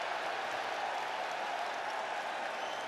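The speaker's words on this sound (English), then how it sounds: "watch this right cheer here" A college basketball crowd at a Northwestern versus Indiana game cheers and applauds after the first foul of the half, a steady, distant wash of noise with no single voice standing out.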